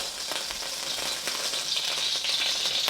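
A batch of beef sears in hot oil for a beef and broccoli stir fry, giving a steady, fairly loud crackling sizzle with brief louder pops, close up and with no talking.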